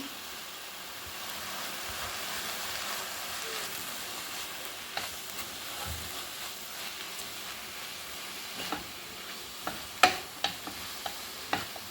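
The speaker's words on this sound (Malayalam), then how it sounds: "നാളികേരവും പച്ചമുളകും വെളുത്തുള്ളിയും കൂടെ ചതച്ചത് ഇതിലേക്ക് ചേർക്കാം നന്നായിട്ടൊന്ന് ഇളക്കി യോജിപ്പിക്കാം" Greens being stirred in a pan with crushed coconut, green chilli and garlic for a fenugreek-leaf and sprouted green gram thoran, giving a soft continuous scraping hiss with a few sharper spoon clicks near the end, no voices.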